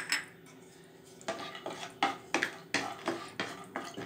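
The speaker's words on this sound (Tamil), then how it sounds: "சிம்மில் வச்சு லேசாக முந்திரி பருப்பை வறுத்து இந்த கிண்ணத்தில் எடுத்து வச்சுக்குவோம்." Cashew nuts roasting in ghee in a pan on low heat, with a spoon clinking and scraping against the metal in a series of sharp, irregular knocks and stirs at close range.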